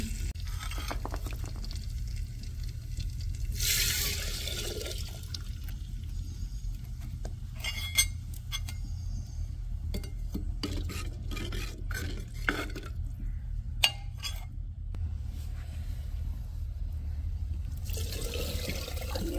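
Dal being stirred in a pot with hot ghee and cumin, giving a steady wet scraping and swishing at close range that runs through the whole stretch, with a few small clinks and no talking.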